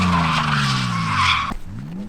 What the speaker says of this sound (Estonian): Hakkame võidu sõitma.